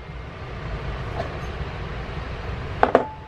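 Passenger train halted in the middle of the mountains, heard from inside the carriage as a steady low rumble and hiss, with two sharp metallic clicks close together near the end.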